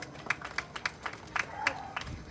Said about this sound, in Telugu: మరి సరే సిస్టర్స్ చప్పట్లు కొట్టండి సరే